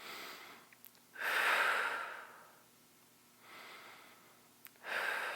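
Slow, controlled breaths while holding a braced abdominal core, a long loud breath near the start, a quieter one in the middle and another beginning at the end, close-up with no talking.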